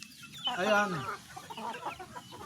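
A rooster crows once up close among broodcock roosters and chickens, followed by softer clucking; a person briefly speaks near the end.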